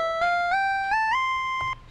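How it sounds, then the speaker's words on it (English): A Famitracker chiptune tone with the 3XX portamento effect, a single bright square-like voice gliding smoothly up through several stepped pitches with no break between notes, clear and alone. "if we activate 3XX, we're sliding in between the notes"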